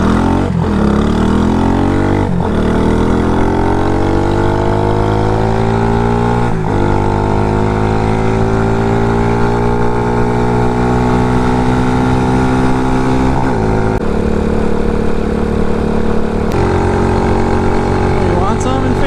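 A CG250 motorcycle fitted with a Kipa 28mm flat slide carburetor, ridden hard and loud up close, its engine revving and rising in pitch through repeated gear changes, with voices in the background.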